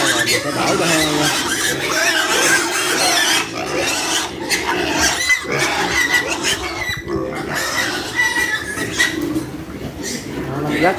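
Pigs squealing loudly at feeding time on a farm, a dense chorus of shrill, overlapping squeals close by that runs throughout, with a person talking intermittently underneath.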